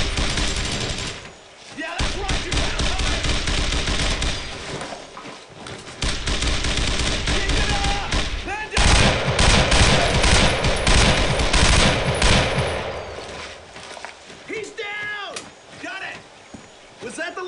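Sustained machine gun fire from the WWII shooter game Brothers in Arms: Road to Hill 30, loud and continuous with bursts of shots. Voices shout under the gunfire throughout.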